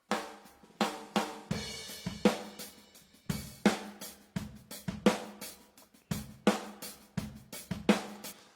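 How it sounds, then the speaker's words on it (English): A drum kit in a steady beat heard through overhead microphones just above, with bright cymbals and crisp snare hits over a lighter kick, fairly quiet. "Then I got a pair of overheads that are right above the drum set."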